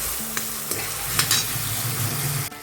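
Potato and curry leaves fry and get stirred in a pan for sabudana khichdi, with a steady close sizzle, a few scraping stirs and a sudden drop near the end.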